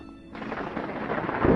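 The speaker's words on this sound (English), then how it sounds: "thunderstorm with no rain" A dull thunder rumble in Space Engineers on PS5, a storm with no rain, rising from a soft start into a broad, swelling roar that grows louder toward the end, with no speech.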